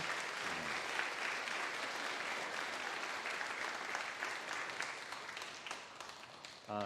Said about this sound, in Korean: 박수 다시 한번 할까요?